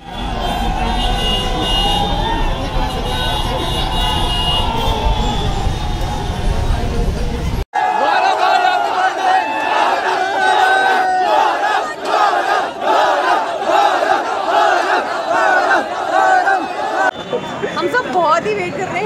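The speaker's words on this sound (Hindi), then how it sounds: "यहाँ पर बहुत सारी भीड़ है" A large outdoor crowd of fans shouts and cheers in Noida, loud and dense throughout, with a sharp cut partway and chanting voices layered over the roar.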